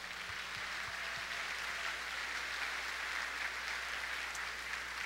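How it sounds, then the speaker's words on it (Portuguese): Steady applause from a church congregation fills the whole stretch, a dense even wash of many hands clapping at moderate distance with no voices over it. "I think you ought to give yourself a good hand clap for that."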